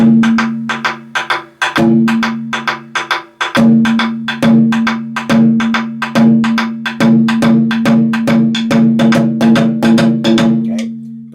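A taiko drum is played in a swinging rhythm that alternates between the head and the wooden rim, giving loud, close, evenly repeating strikes, some ringing and some sharper clacks.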